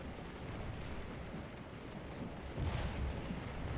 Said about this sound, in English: we got shots with these artillery good